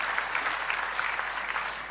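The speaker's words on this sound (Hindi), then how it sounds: "ताली बजाओ और कोटि कोटि अभिनंदन करो" An audience at a spiritual discourse breaks into steady, even clapping, a continuous close wash of applause that fills the whole short moment without any speech.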